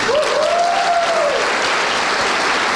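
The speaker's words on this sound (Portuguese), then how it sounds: "vamos dar uma salva de palmas para ele" A seminar audience gives a warm round of applause for Dr. Helder Nani, dense continuous clapping from many people filling the room, with a brief whistle-like tone rising and falling early on.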